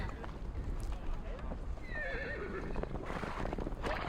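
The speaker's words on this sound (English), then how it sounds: "The sounds of dozens of horses neighing at once echo from somewhere far away" Many horses neigh and whinny at once in a video game, the calls sounding distant and echoing over a continuous background bed, with faint hoof clip-clop under it.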